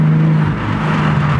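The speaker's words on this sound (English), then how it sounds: "I think it's just the exhaust, but it just sounds a lot better." A BMW with an M Performance exhaust drones loudly and steadily while accelerating, with a deep, throaty tone, the engine pitch dipping briefly before holding strong again.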